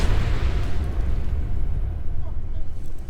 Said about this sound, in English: Artillery fire, baby.